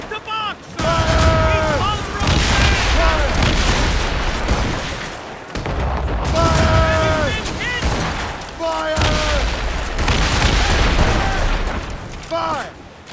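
Ship cannon broadside fire in Assassin's Creed Rogue, heard as three loud, booming volleys of rapid overlapping blasts with gaps between them, mixed with shouted commands.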